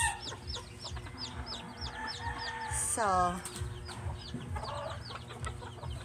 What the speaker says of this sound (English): So what remains gonna be this one, the one-eyed rooster and the hens.